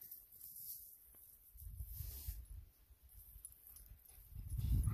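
A dog fetching a ball moves about nearby, with soft scuffling, panting and low thumps of paws that grow louder toward the end.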